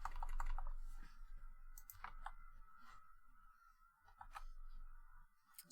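Typing on a computer keyboard: quiet, irregular clusters of key clicks spread over several seconds, close and soft, with no talking.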